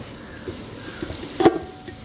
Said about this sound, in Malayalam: കുറച്ച് ഉള്ളി ഇട്ട് കൊടുക്കാം പൊടിപ്പിട്ട് കൊടുക്കട്ടെ പെട്ടെന്ന് ഉള്ളി വാടിക്കിട്ടാണ് നമ്മളാണ് കുറച്ച് പച്ചമുളക് ഇട്ട് കൊടുക്കട്ടെ